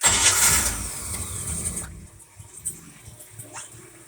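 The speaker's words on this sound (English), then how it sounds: "engines." Chris Craft boat engines starting on the water, a loud burst of cranking and catching that drops to a quieter, uneven running sound after about two seconds.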